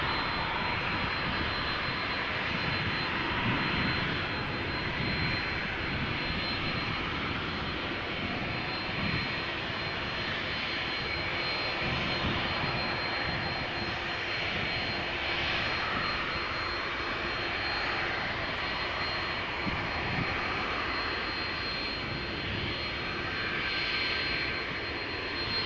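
Airbus A330 jet engines on arrival at Amsterdam Schiphol airport, a continuous mid-distance roar with a thin steady whine on top, unchanging across the span and free of speech.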